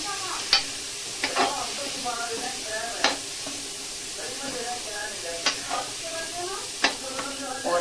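Halwa with ghee is stirred in a pan, giving a soft background sizzle and hiss with sharp spoon scrapes and knocks every second or so, close and fairly loud.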